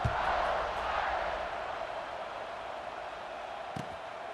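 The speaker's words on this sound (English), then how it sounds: "this crowd is feeling themselves after that last drive" A steady roar of a cheering stadium crowd at an American football video game, loud and continuous at first and easing slightly, with a brief thump near the end.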